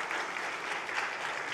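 Steady applause from a church congregation welcoming a pastor at a revival meeting fills the whole stretch, a dense even patter of many hands clapping at moderate volume.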